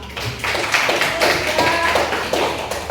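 A group of people claps together in a classroom-style gathering, a brisk run of loud overlapping hand claps with sharp taps, steady throughout and close by.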